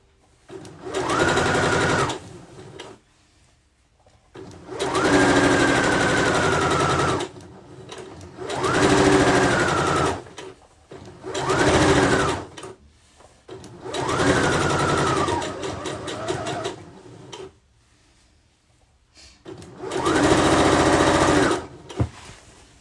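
A sewing machine stitches a pillowcase seam in repeated bursts of rapid, buzzing motor whirring, each run lasting a few seconds with short quiet pauses between, loud and close.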